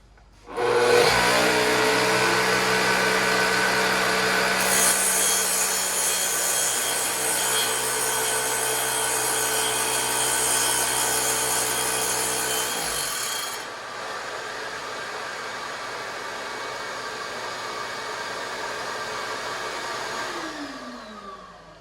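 Track saw cutting along a wooden splinter guard, a loud, close high-pitched whine under steady load for about twelve seconds, then spinning down and fading.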